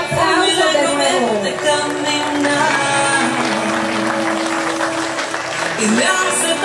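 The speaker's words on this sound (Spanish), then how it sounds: "Venga los aplausos de nuevo." Applause at a quinceañera celebration, steady crowd clapping filling the whole stretch, with music and a voice running underneath.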